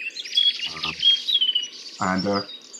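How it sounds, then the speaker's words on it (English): Songs of a blue tit, chaffinch and blackcap ring out in the open, clear high chirps and trills close by, broken twice by short lower bursts of sound. "you'll have heard a blue tit, a chaffinch, and a blackcap in there"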